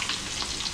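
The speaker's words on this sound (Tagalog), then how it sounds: "para lang nagpiprito ng manok" Steady crackling sizzle of chicken frying in hot oil, close up and continuous.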